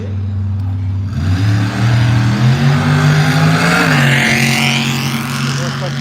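Drag racing car at a winter shootout qualifying session makes a test hit, its engine roaring up loudly from idle into a hard, steady high-revving pull that holds for several seconds.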